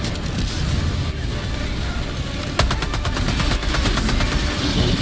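Gunfire in the Helldivers 2 video game is heavy and loud, with steady shooting that turns into rapid automatic bursts partway through and carries on without a break.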